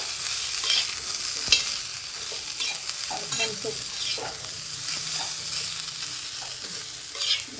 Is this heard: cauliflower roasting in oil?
yes